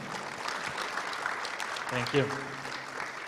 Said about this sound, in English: one big applause for our speakers.